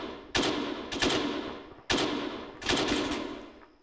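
Loud automatic gunfire in a military video game, close by, in four sharp rapid bursts that each trail off before the next one.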